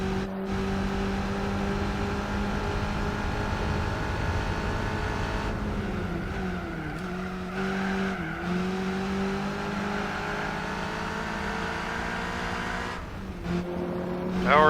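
Racing car engines drone steadily in Gran Turismo 4, with a modern Peugeot among the cars, holding a constant loud tone that dips and rises with gear shifts and closes on a revving surge, while a voice talks over it.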